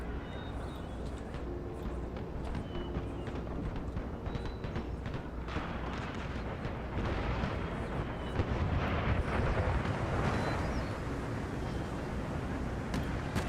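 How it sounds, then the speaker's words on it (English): Heavy cannon fire pounds a house during an Empire: Total War battle, a dense, continuous roar of booming impacts and rumbling blasts that swells louder in the second half, with no talk. "Oh, they are hitting our house with cannon fire"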